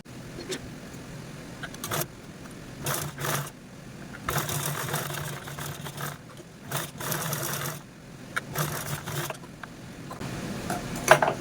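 A sewing machine stitching saree lace onto fabric runs in short and longer bursts of rapid whirring, pausing between seams, close and steady, with no voices.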